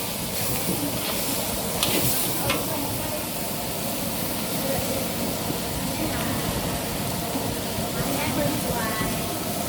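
Holy basil being stir-fried dry in a hot pan over a strong flame: a steady, loud sizzling hiss with occasional scraping clinks, while someone talks over it.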